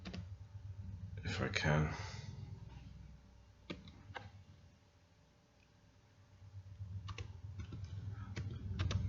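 Numbers being typed on a computer keyboard: scattered clicking keystrokes, some in quick bursts and others as single taps, under a speaking voice and a low steady hum.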